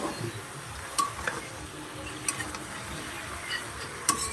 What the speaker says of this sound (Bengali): এটাকে ভালো করে নাড়াচাড়া দিয়ে নিতে হবে